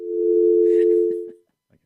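A telephone dial tone comes through on a call-in line, a steady, loud hum that holds for over a second and then cuts off, followed by faint clicks.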